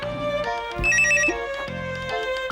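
A telephone rings indoors with a repeating electronic ringtone melody, clear and close, with no one speaking over it.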